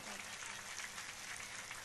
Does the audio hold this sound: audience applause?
yes